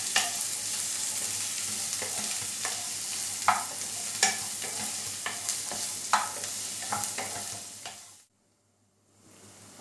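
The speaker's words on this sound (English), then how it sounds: "Put the onions and fry till they are brown in color." Onions fry in a pan with a steady close sizzle and scattered clicks and scrapes of stirring, then the sizzle cuts off abruptly near the end.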